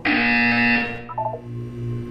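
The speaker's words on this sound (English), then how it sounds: "You will hear a buzzer." A loud, harsh electronic buzzer in a video game blares steadily for under a second, then cuts off, leaving a few short softer tones over a low background hum.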